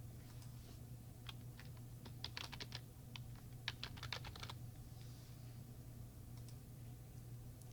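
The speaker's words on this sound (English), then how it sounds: "I will type in Dr. Karasmanis." Fingers type on a computer keyboard in a quiet room, a loose run of soft keystroke clicks that bunches into quick bursts in the middle, over a steady low electrical hum, with no talking.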